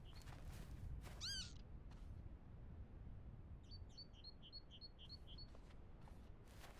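Bird calls in the video game BULT ring out: a single rising chirp early on, then a rapid series of short, high tweets, over a quiet outdoor background.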